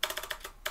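Quick bursts of keystrokes on a computer keyboard, several crisp close clicks in a rapid uneven rhythm with a short pause before a final tap.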